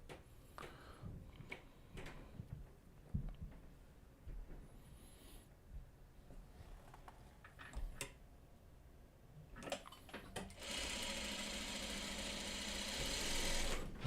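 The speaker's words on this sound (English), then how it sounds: "I'm just going to chain stitch all of these." A sewing machine chain stitching half-square quilt triangles, heard as a steady close mechanical whir near the end, after quieter handling sounds and light taps of fabric and tools.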